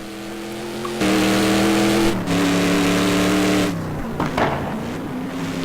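A Ford GT race car in a racing video game runs at full throttle on the Daytona road course, its engine droning steadily with pitch shifts at gear changes, then easing off near the end with a brief rattle.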